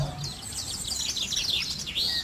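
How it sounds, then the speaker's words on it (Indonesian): Chirping birdsong from a computer-graphics village simulation set in the morning, a steady stream of quick tweets and trills at moderate level over a faint low hum, with no talking. "untuk pagi hari ada suara burung"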